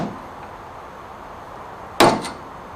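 A sharp metallic strike of a brass hammer on a bolt in an Austin-Healey lever shock absorber rings out once, followed by a quieter second hit, over faint background noise.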